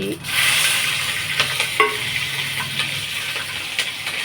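Cumin seeds and green chillies sizzle steadily in hot oil in a pan, a continuous close hiss broken by occasional crackles and light stirring taps, with no talking.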